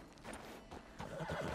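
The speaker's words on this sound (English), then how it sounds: "That's a strong-looking horse." A horse in the video game Red Dead Redemption 2 whinnies loudly and close, with soft hoof clip-clops underneath, no voices.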